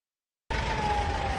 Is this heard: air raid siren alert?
yes